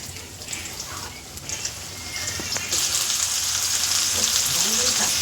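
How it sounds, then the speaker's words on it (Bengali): Bitter gourd pieces fry in hot oil, a soft crackle at first that swells into a loud, steady sizzle, with faint stirring clinks. "ওই তেলে এবার উচ্ছেগুলো লাল করে ভেজে তুলে নেব"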